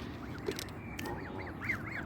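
A pair of geese call on a lake, a run of short nasal honks at a moderate distance, several in quick succession with brief gaps, faint and without talk.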